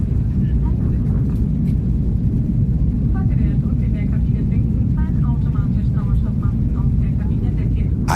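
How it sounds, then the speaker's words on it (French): A Germanwings Airbus A320 taxis toward the runway, its engines giving a constant loud rumble and whine that never lets up while a voice talks over it. "l'avion roule vers la piste numéro 7"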